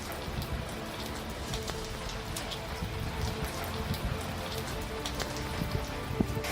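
Heavy rain falls in Rajasthan right after a dust storm and whirlwind, a dense, steady wash of drops pattering on surfaces, fairly faint and continuous throughout.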